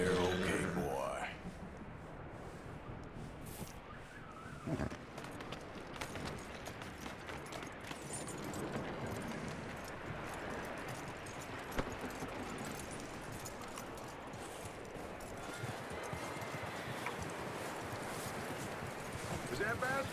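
In the video game Red Dead Redemption 2, horse hooves clip-clop continuously on hard ground, mixed with rustling and faint voices in the background.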